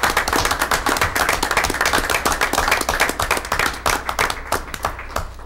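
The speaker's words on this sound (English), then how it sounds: "I just would like to give you a round of applause." Steady, dense applause from attendees at a school board meeting, many hands clapping fairly close and loud, holding a busy rhythm before easing slightly at the end.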